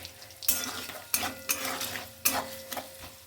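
Shredded coconut fries in a pan while a utensil stirs and scrapes it, producing close sizzling broken by repeated sharp scraping strokes against the metal, with no voices.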